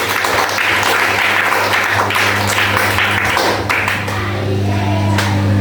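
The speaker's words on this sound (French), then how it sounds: "Applaudissez-le." Church congregation applauding during a French-language worship service, loud dense clapping over a steady low electronic hum, continuous throughout and easing slightly near the end.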